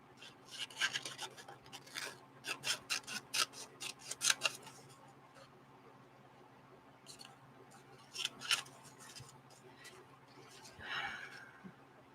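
Scissors cutting out a paper figure, quick rhythmic snips in clustered runs, then a pause and a few more cuts with some paper rustle, close and clear over a faint hum.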